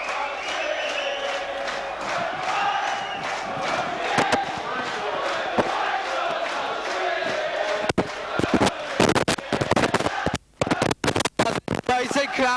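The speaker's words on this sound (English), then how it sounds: "It's a crowd here, absolutely ecstatic." Rugby league crowd at Wigan for Warrington versus Widnes roaring and cheering ecstatically after a try, a loud sustained wash of shouting with a commentator talking over it, then choppy bursts and dropouts toward the end.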